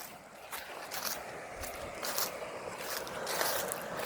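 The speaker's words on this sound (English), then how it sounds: "You can listen to that water flow all night" Creek water flows steadily beside a camping spot by a lake, a soft broadband rush with brief brighter splashy surges.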